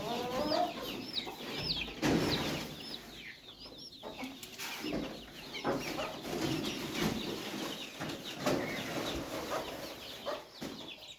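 Farm chickens cluck and murmur continuously in a coop during morning chores, several birds close by with scattered louder squawks.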